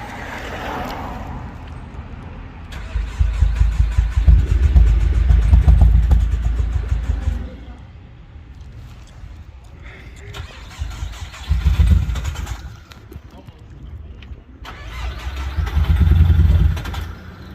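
A Nissan QR25DE engine with a suspected bad head gasket runs roughly and is revved in several surging swells, dropping back to a rumbling, uneven idle between them, loud and close, with no voices.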